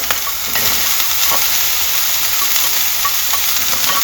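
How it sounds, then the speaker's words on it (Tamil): Carrot and green peas sauté in a hot pan with ginger and garlic for veg puff filling, giving a loud, continuous close-up hiss of frying with a few faint stirring scrapes, and no voices. "பச்சை பட்டாணி, இதை போட்டுட்டு ஒரு நிமிஷம் வதக்கிடுங்க."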